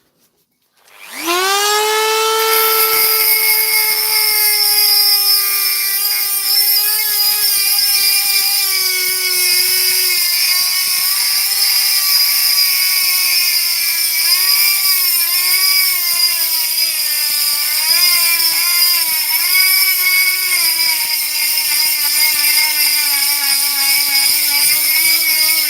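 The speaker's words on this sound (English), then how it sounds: "So much for buying a silent compressor." An air compressor, bought as a silent model, starts up and runs steadily, a loud continuous whine with a wavering pitch over a constant motor drone, no voices.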